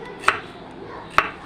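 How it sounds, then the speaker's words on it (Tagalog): Two sharp, separate knife chops on a cutting board through a large, strong onion, spaced about a second apart over a faint room background. "Ayan, hiwain natin. Hiwain."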